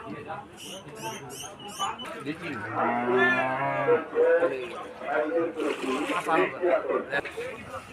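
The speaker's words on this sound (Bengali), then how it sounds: "বড় বড় গরু, অনেক বড় বড় গরু" Cattle moo at a crowded Eid cattle market in Dhaka, with one long, loud, deep moo close by amid constant crowd chatter and voices talking over it.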